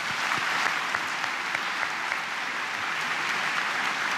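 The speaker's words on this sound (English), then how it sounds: "Another round of applause for those." A graduation commencement crowd claps steadily and densely throughout, a continuous wash of applause without a break.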